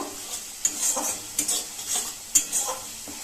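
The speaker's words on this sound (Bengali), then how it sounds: "এবার গুঁড়ো মশলাগুলো ওই পেস্টের সাথে এইভাবে নাড়াচাড়া করে 2 থেকে 3 মিনিট একটু কষিয়ে নেব।" Ground spices are stirred into a paste frying in a pan, with repeated scraping strokes of a spoon against metal over a soft sizzle, close and clear with no talk.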